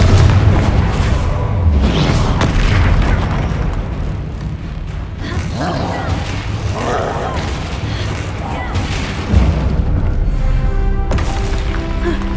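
Loud, dense magical spell blasts and booming impacts from Hogwarts Legacy combat pile up continuously under game music, with a sharper burst near the end; no words are spoken.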